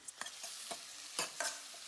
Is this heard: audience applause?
no